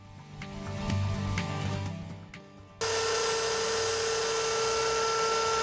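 A CNC router surfaces a walnut and maple butcher block countertop, taking shallow passes; after some quieter workshop knocks, a loud, steady high-pitched cutting whine kicks in abruptly and holds.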